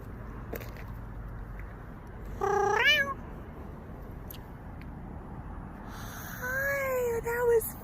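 Kittens at a cemetery give two short bursts of high, wavering meows, one in the middle and a longer one near the end. They are fairly faint over steady outdoor background noise.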